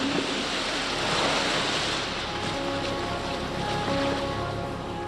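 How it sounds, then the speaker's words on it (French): Waves churn and wash continuously in the RNLI wave pool in Dorset, a broad, loud surf roar with wind-like hiss that holds steady throughout, with no voices. "Voici le bassin à vagues du RNLI dans le Dorset."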